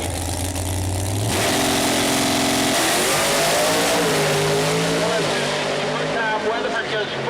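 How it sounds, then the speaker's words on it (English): A Pro Mod Corvette drag car, a nitrous door slammer, roars down the 660-foot concrete and asphalt strip at Mooresville Dragway, its engine note loud and sustained with rising pitch sweeps, while an announcer talks over it. "Getting this Jerry Hospital Corvette down the 660 feet of concrete and asphalt here at Mooresville Dragway."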